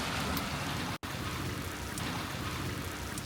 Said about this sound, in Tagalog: the rain didn't stop. It's still raining until now.